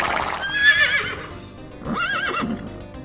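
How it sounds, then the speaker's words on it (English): A horse gives a loud, shrill whinny up close, followed by a second shorter neigh, with faint hoof clip-clop underneath. "Horse."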